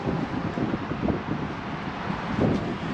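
Wind gusts outdoors on a sunny day, making a loud, continuous rushing buffet against the microphone with low rumbling swells.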